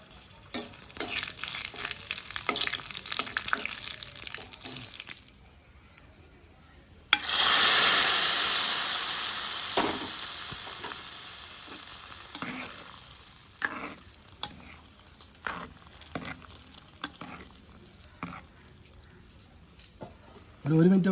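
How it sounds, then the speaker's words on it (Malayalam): Mustard seeds, fenugreek and dried red chillies hit hot ghee for a Kerala mango pulissery, erupting in a loud crackling sizzle that fades to intermittent popping and spattering, with a voice talking over parts. "കടുക് ഉലുവയും പൊട്ടിയിട്ട് നമുക്ക് കൊല്ലമുളക് ഇട്ട് കൊടുക്കാം കേട്ടോ."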